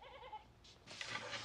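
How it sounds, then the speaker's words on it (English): A goat bleats faintly in a quiet room, one short wavering cry followed by a brief rustle and a muffled noise, with no talking. "A goat."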